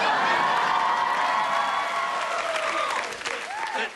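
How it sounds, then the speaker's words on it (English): A stadium audience claps and cheers in a dense, loud wash of applause that tapers slightly toward the end, with scattered whoops rising above the crowd. "People in the stand, stand and clap your hands."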